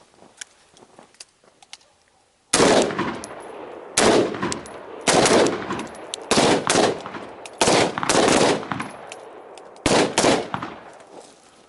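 Pistol volleys crack out at a night shooting range in several bursts of rapid, loud, close shots separated by short pauses, with the first few seconds quiet.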